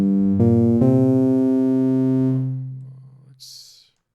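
A SynthMaster 3 oscillator set to phase modulation plays a rich, buzzy synth tone. The timbre shifts twice early on, the note sustains, and then it decays into a faint noisy tail.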